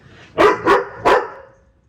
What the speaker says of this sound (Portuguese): Ah, que lindo você veio aqui latir.